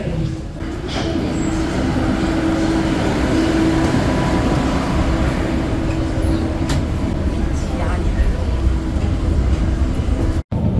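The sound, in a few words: subway train at a station platform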